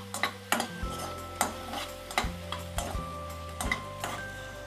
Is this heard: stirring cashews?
yes